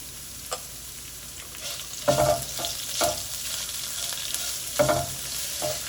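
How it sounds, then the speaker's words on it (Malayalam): Small shallots and green chillies sautéed in a pan, a steady close sizzle broken by repeated stirring scrapes and clacks of a spoon against the pan, with no voices. "1 കപ്പ് ചെറിയ ഉള്ളി, 2 പച്ചമുളക് എന്നിവയിട്ട് വഴറ്റിയെടുക്കുക"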